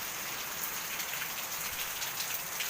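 Steady heavy rain pours down, a dense, even hiss of drops hitting surfaces with no voices.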